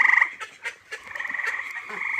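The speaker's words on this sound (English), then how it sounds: "There's a tree frog very close." Tree frog calling close by, rapid pulsed trilling bursts that start and stop, fairly loud and near, with a few soft knocks and rustles between calls.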